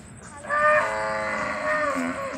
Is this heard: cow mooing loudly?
yes